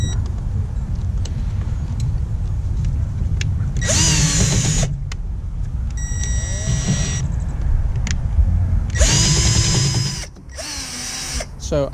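A power drill bores a hole near a truck's radiator during an F150 EcoBoost remote oil filter install, with two loud whining bursts at slow speed over a nearby engine-like hum.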